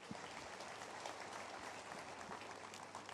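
A church congregation claps together in a dense, continuous patter, faint and somewhat distant, holding steady for a few seconds without speech.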